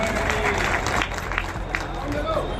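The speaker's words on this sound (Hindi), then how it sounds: "हम चाहते जोरदार उनके लिए ताली बजाएं" An audience at a political alliance youth gathering in a Jhansi wedding hall breaks into applause, a dense clapping wash mixed with crowd noise and a speaker's voice over it.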